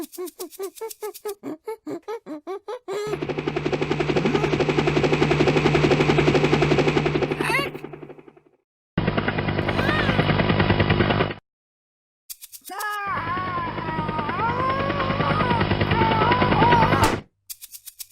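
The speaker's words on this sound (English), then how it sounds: "Helicopter!" Cartoon-style helicopter sound effect with steady whirring chopping bursts, loud and near, played in several separate stretches broken by short silences, with no talk over it.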